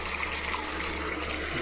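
Tamarind water poured into a simmering Tamil kara kulambu with okra and sundakkai, giving a steady close gushing, splashing pour that lasts the whole moment with no pause.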